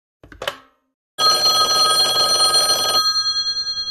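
A telephone bell rings loudly and steadily for about two seconds after a brief knock, its tone then fading away; no one speaks over it.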